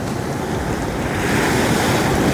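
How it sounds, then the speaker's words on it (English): Ocean surf and wind at a hot beach in Aruba, a loud, continuous wash of breaking waves mixed with gusty wind buffeting the microphone, no voices. "But okay, it's hot as fuck, so Taki and I are gonna go into the ocean."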